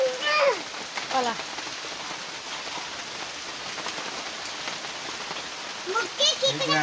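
Steady rain falls on a surface in a rural Bengali village home, a continuous dense patter close by, with brief bits of talking and a rooster-like call at the start and end.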